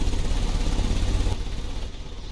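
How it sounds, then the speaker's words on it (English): A vehicle engine idles in the Sherlock Holmes video game, a steady pulsing rumble that runs loud and close, then drops in level partway through. "The engine has started."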